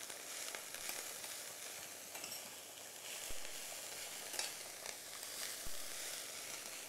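Chinese cabbage sweating in a hot pan in a cooking class, a quiet, steady sizzle with faint crackles and two brief soft knocks, no voices.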